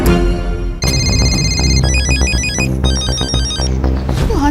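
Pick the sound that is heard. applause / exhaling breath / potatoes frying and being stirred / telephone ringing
telephone ringing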